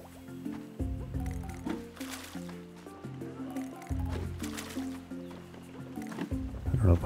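Watering-can refill in the Roots of Pacha farming game: squishy, dripping liquid effects over a bright layered game music loop, fairly loud and continuous.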